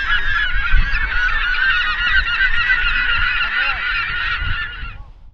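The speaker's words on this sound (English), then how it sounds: "how about sending a load of seagulls up in the air?" A large flock of birds calls together in a dense, continuous honking clamor over a field at a charity football match, loud and steady for about five seconds before fading out, with no talk.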